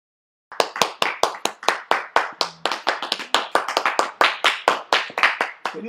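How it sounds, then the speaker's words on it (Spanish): Audience applause at a circus, a steady run of sharp, rhythmic hand claps that starts abruptly and keeps going, loud and close, with no talking over it. "Todos volvimos con aplauso"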